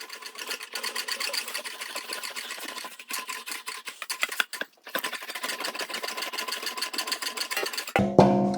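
Sheet metal for a custom truck box, inspired by a 1940 Ford truck, rolled through an English wheel in a workshop, giving a steady, close rhythmic rattling and rolling that runs almost continuously with a few short pauses.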